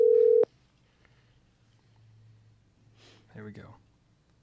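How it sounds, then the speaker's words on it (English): A telephone emits a loud steady tone that cuts off abruptly, followed by near silence, a faint line hum and someone speaking briefly before another tone begins. "We can hear the ringing."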